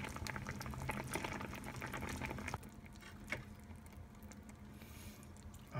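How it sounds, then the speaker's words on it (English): Chicken adobo reheating in a pot on the stove, bubbling and simmering with a steady wet patter throughout, loud and close at first and settling to a quieter, softer boil. "I'm just gonna reheat it a little bit"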